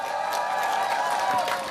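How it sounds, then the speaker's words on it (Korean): Crowd applause and cheering at an outdoor presidential campaign rally in Pohang, a steady dense wash of clapping filling the short stretch at moderate level. "힘찬 박수 부탁드립니다"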